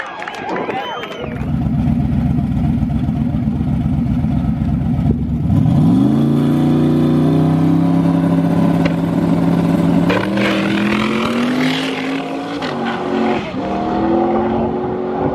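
A small tire drag racing car runs down the lane at a drag strip, its engine revving hard and loud with rising pitch through gear changes, the roar sustained and close for most of the run, with people talking over it.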